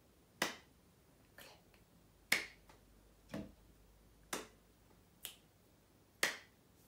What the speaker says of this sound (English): Table, clap, click, clap.